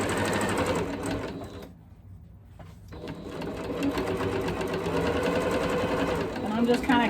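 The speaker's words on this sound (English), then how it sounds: "I am going to go ahead and sew it on this side all the way down." A sewing machine stitches down the side of a quilted Christmas stocking, a loud, fast steady whir that stops briefly for about a second midway and then resumes.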